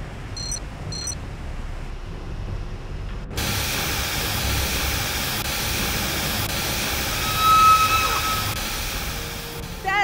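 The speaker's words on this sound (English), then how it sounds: "The steam has been vented." Steam venting in the Jurassic Park video game: a steady, broad hiss kicks in suddenly after a few beeps and a quieter stretch, then holds loud and continuous with a brief swell near the end.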